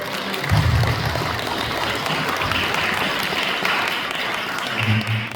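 Broad, continuous applause from a large audience at an event marking the 80th anniversary of Korea's Liberation Day, steady and fairly loud, with some low rumble underneath.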